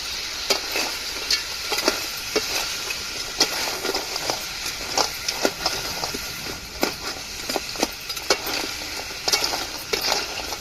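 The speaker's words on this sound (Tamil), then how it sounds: "நம்ம தாளிக்கிற மசாலாவில் நண்டை போட்டு ஃப்ரெஷ்ஷான நண்டை போட்டு நல்லா விரையும் விட்டுறணும்" Steady sizzling as fresh crab fries in spice masala in a hot pan, with repeated stirring scrapes and clicks throughout, close and fairly loud.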